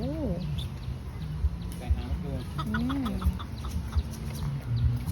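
Chickens cluck and squawk nearby in an irregular chatter at a mini zoo, with a voice talking over the farmyard noise.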